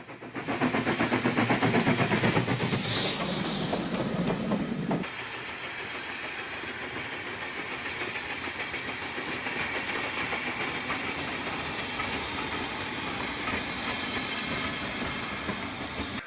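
A heritage train runs along the Great Central Railway single-track line beyond Rothley, a loud close rumble for the first few seconds easing into a steady rolling hiss and faint clickety-clack with no voices.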